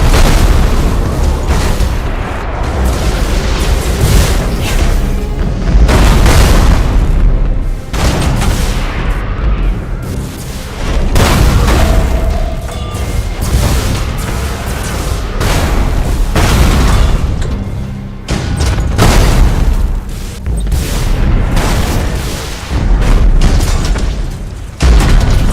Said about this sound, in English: Initiate Thunderhawk bombardment.